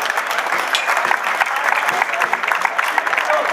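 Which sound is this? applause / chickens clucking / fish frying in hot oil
applause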